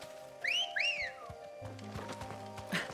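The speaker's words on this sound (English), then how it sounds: "I like the way he whistles." A character in Final Fantasy 16 whistles two clear rising-and-falling notes in quick succession, followed by clopping hooves and game ambience.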